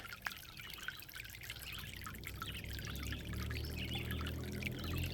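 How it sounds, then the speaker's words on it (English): A garden fountain trickles and drips near a path, a soft, continuous splash of running water with small droplets over a low steady wash, close and quiet with no talking. "Just really chill dripping."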